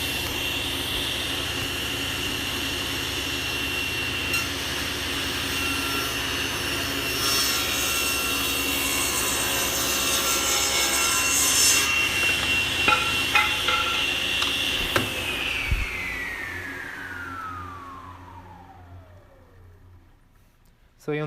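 A table saw runs loud and steady as it cuts through wood, the motor whining at a constant pitch. It then spins down in a long, falling whine until it goes quiet.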